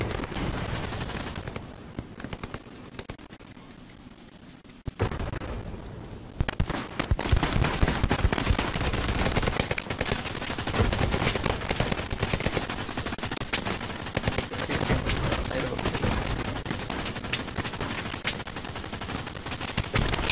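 Grenades and gunfire in Hell Let Loose during the battle for the Carentan causeway: scattered shots at first, then a sharp blast and dense, continuous rifle and machine gun fire crackling on all sides, loud and close, with no talk.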